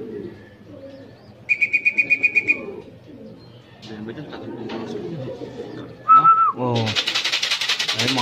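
A racing pigeon comes in at the loft during a fun race arrival at Batangas, with a clear run of repeated bright calls, a short sharp call later and bursts of wingbeats and bird noise near the end, while someone talks throughout.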